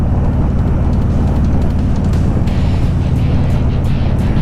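A car driving along a road in Anacortes, Washington, a loud continuous low rumble of engine and road noise with wind buffeting, heard from inside the vehicle, no talking.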